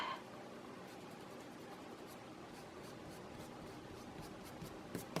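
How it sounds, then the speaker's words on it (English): A pencil eraser scrubs across paper to remove guideline marks on a small pattern drawing. It makes a faint, continuous scratchy rubbing with a few soft ticks near the end, and nobody speaks. "I'm going to go ahead and erase these"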